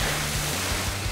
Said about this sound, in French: il reste encore quelques bonnes vagues